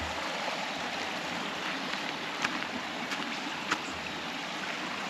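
Water at a swimming hole in a stream, a soft continuous wash and trickle heard quietly, with a few small splashes or knocks standing out.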